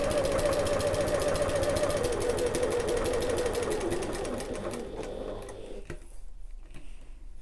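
A sewing machine runs steadily, stitching a seam on a sling bag with a loud, continuous whir that fades and stops near the end.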